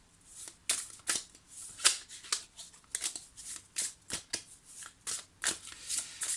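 Oracle cards from the Xavam deck shuffled by hand in quick, uneven riffles and slaps, a dozen or so crisp papery bursts close to the microphone with no talking.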